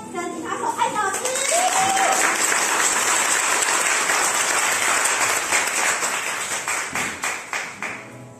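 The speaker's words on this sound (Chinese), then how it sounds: "那我们就掌声来欢迎" An audience applauds steadily to welcome a singer and guitarist onto the stage at a field-research exhibition venue in Chiayi; dense clapping fills the room throughout, with a voice briefly heard over it near the start.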